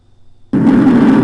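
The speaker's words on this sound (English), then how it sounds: "The flash happens, then the explosion happens." A sudden, loud explosion sound effect bursts in about halfway through after a quiet stretch, then sustains as a dense, roaring rumble to the end.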